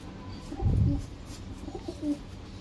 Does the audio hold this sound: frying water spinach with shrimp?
no